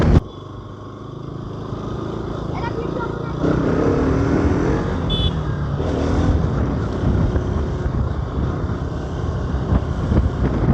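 A Bajaj Pulsar 220F motorcycle engine drones while riding along a road, close with wind rush, the rider talking over it throughout.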